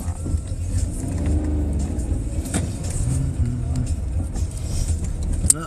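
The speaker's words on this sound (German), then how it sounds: "Kuppeln kommen lassen und Gas geben." A car pulls away during a driving lesson in Cologne as the clutch comes up, its engine note rising steadily with road and interior noise, and a voice speaks over it.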